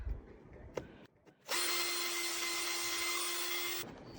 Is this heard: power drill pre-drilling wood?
yes